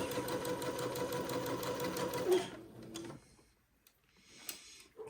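A sewing machine stitching a dress seam, a close, steady mechanical whir for a couple of seconds before it stops, followed by quiet handling clicks and rustles.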